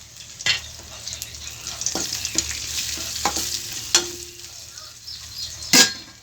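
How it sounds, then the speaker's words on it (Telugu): A secret spice powder for pulihora goes into hot oil, producing a soft, steady sizzle broken by several sharp clinks and scrapes of a utensil stirring in the pan. "ఇప్పుడు ఈ సీక్రెట్ పౌడర్ కొద్దిసేపు నూనెలో వేసుకుందాం"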